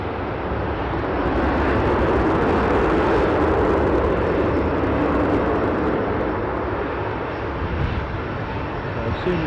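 A passenger airplane on approach to land at Newcastle airport, a loud, broad engine roar that swells and holds steady as it passes close overhead for several seconds.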